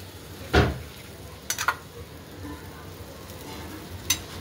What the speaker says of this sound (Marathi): आता एक भरपूर सोडायचं म्हणजे कसं आपला पराठा लाल भाजला जातो